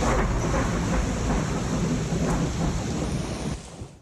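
A thunderstorm with heavy rain pours steadily while thunder rumbles low and continuous underneath, loud and close, with no voices.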